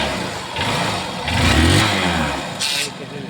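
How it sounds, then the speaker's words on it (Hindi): A repaired Honda motorcycle engine revs in several short surges over a rumbling idle, recorded close up with no talking. "अभी बाइक फिटिंग हो चुका है, साउंड भी बिल्कुल सही है।"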